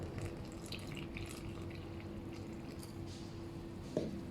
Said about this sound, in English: now I'm going to add this pandan leaf water little by little